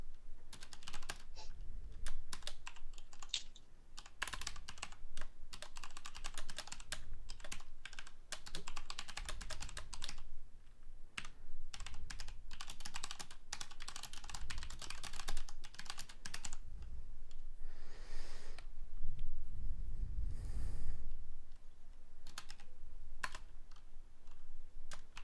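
Steady keyboard typing at a computer, rapid clicking keystrokes in irregular bursts continuing for about twenty-five seconds, close and moderately loud, with no talking.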